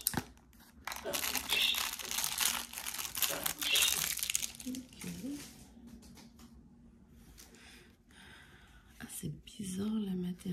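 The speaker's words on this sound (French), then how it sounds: "Ça ressemble à un pansement. je vais juste l'ouvrir ici." Someone opens a bandage-like package from a cross-stitch kit, giving close, loud crinkling and tearing of the wrapper for several seconds, which then fades to lighter rustles while a person speaks quietly.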